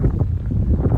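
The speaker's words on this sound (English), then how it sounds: "it is pretty windy and pretty cold" Steady low rumbling wind on a cold day buffeting the microphone, loud and continuous with no voices.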